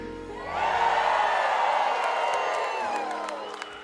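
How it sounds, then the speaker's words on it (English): A concert audience in Branson cheers loudly, a sustained roar of shouts and whoops with scattered clapping that swells in and holds for several seconds before easing slightly. "Now all of Branson is cheering."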